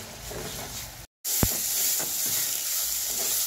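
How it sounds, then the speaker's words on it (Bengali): A mixture sizzles steadily in a pan over medium heat while being stirred, with a short gap of silence midway and a single sharp clink against the pan, close and continuous. "তো চলুন এটাকে নেড়ে চেড়ে একটু শুকিয়ে নিই"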